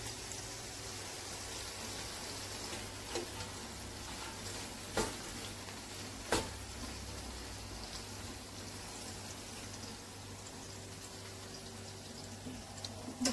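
Kebab meat for a Sudanese kebab, seasoned with Vegeta, sizzles steadily under a lid in the pan, a continuous close hiss with a few sharper pops and crackles breaking through.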